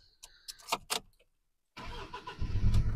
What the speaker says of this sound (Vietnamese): anh chị em nghe cái khối động cơ đang chạy đây, máy nổ rất là êm